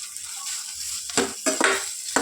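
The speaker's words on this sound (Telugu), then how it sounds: "ఒక 2 మినిట్స్ వరకు ఫ్రై చేసుకోవాలి వీటిని" Onions frying in hot oil for an egg curry, a steady soft sizzle broken by a few sharp bursts of stirring and crackle, close and alone.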